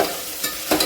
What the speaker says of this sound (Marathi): अर्धा चमचा जिरे, अर्धा चमचा मोहरी असं आपण फोडणीत टाकून सगळं असं हे छान परतून घेतलेलं आहे